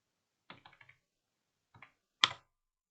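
Keys on a computer keyboard click as data is typed, a quick burst of several taps, a short pause, then two isolated strokes, the last one louder, all close and clear against silence.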